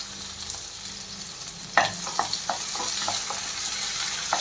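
Chopped large onion pieces sizzle in a pan for masala pasta, with a steady frying hiss and, from about the midpoint, a run of sharp stirring scrapes and clinks, close and fairly quiet, no voices.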